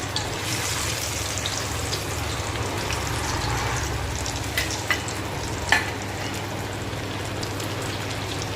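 Food frying in a pan, a steady dense sizzle with occasional louder pops and crackles, fairly close and continuous with no talking.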